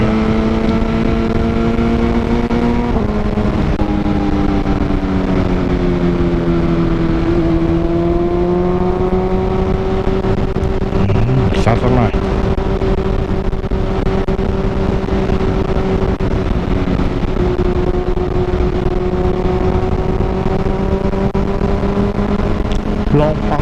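A 2020 BMW S1000RR motorcycle engine drones steadily, its pitch dipping and rising slightly as it revs, loud and continuous with a faint rushing wind in the background.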